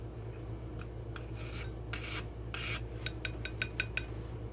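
Dry mustard powder is scraped off the top of a measuring cup with a utensil, a series of short, crisp scratchy strokes that speed up into a quick run near the end, faint over a low steady hum.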